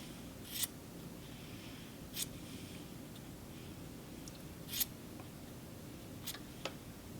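Scissors snip yarn while a blue and white shadow scarf is woven, several sharp, quiet clicks spaced a couple of seconds apart over a soft background hiss, without talking.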